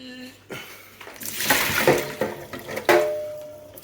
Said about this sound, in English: I'm just going to empty my drip tray because it's full.